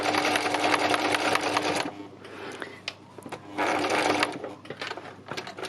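A sewing machine stitching fabric, running in two close, loud bursts of rapid mechanical whirring separated by a short pause of lighter handling clicks.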